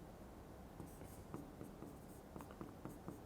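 Pen or chalk writing on a board in a class 11 economics lesson, faint scratchy strokes in short irregular bursts, quiet and close with no talk.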